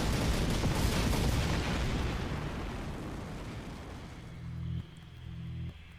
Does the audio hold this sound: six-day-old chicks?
no